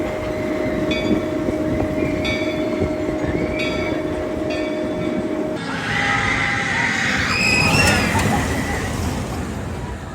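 The Jaguar roller coaster train rumbles loudly through the loop of MonteZOOMa's Revenge at Knott's Berry Farm, with a steady rolling roar, rising wheel squeal and clatter toward the end, and faint crowd voices at the amusement park.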